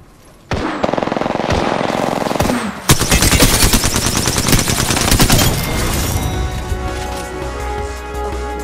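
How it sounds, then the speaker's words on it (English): Automatic gunfire in the battle royale shooter Apex Legends: an opening shot, then dense, loud rapid-fire bursts that rattle on without pause before tailing off into ringing echoes and ambient game noise. "Listen up, I'm getting shot at."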